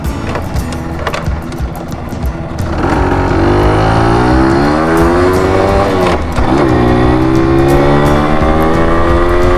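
A Yamaha U7E two-stroke motorcycle engine runs loud and close, its pitch climbing steadily as it revs hard under acceleration, with a brief dip before it climbs again.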